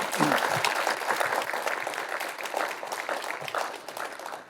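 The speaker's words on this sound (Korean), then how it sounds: "이 네 분 의원님께도 큰 박수 보내주시기 바랍니다" An audience at a policy forum of the Seoul city council gives hearty applause for four council members, dense continuous clapping filling the room and tapering slightly toward the end, with faint voices underneath.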